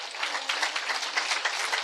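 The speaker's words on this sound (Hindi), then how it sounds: "ताली बजा लो सारे" A yoga camp group claps hands together loudly and steadily, a dense, continuous patter of many palms with no speech over it.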